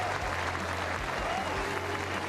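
Golf spectators at LIV Golf Andalucia applaud a winning putt, a dense steady wash of clapping from a large crowd that holds across the whole moment.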